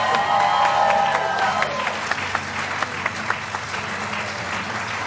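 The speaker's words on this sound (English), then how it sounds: "can I have one more round of applause for all of our graduates?" A commencement and hooding ceremony audience applauds its graduates, a broad, steady round of clapping with a brief voice over the start and a few louder individual claps standing out as it carries on.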